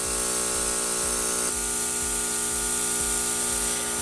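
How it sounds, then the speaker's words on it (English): A steady, loud hissing spray from a makeup airbrush nozzle on its high setting, continuous throughout, with a low mechanical hum pulsing underneath. "Put it on high, and then just clean out the nozzle"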